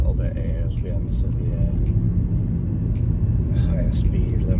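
A remapped BMW E91 330d diesel with DPF and EGR delete accelerating on the road, heard from inside as a loud, steady low rumble building under the drive, with a voice speaking over it.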